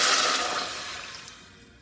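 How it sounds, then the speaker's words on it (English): A cup of water hits a saucepan heated over high flame with a loud burst of sizzling hiss that fades steadily over about two seconds, close up, no voices. "We're going to add in 1 cup of water."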